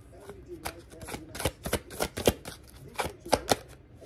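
Tarot cards being shuffled by hand, a rapid series of crisp riffling slaps and flutters of varying loudness, close and continuing for several seconds.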